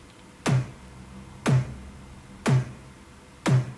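A synthesized EDM snare drum hits four times at an even one-per-second pace with its compressor off, each a sharp close crack with a short low body and a brief fading tail, no voices.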